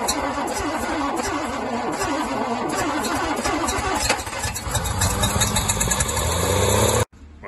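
A Humber Super Snipe car engine cranks and fires, then settles into a loud, close, steady idle with mid-range rumble, the car's wheels jacked up, before cutting off abruptly near the end.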